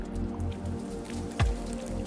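Rain drips from the canopy of a dense coastal redwood forest, a steady soft patter with one louder close drop near the middle, no voices.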